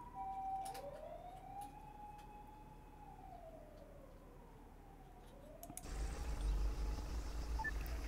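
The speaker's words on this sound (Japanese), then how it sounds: "ちょっと救急車がうるさいですけど。" An ambulance siren wails in a slow rising and falling sweep, fairly faint and distant, before a louder low rumble of background noise takes over.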